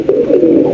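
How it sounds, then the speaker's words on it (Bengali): A flock of pigeons at a bird market cooing, low throaty warbling calls running continuously and loud at close range in a brief burst. "রয়েছে এক ঝাঁক কবুতর মাশাআল্লাহ দেখতেই পাচ্ছেন"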